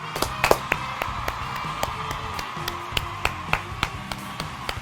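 A lively studio crowd claps in a sparse, uneven pattern of sharp individual claps over a busy background of voices and faint cheering.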